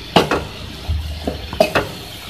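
A few scraping, clattering strokes of a spoon stirring boiled chickpeas into spices in a pan, with a soft sizzle beneath, no talking.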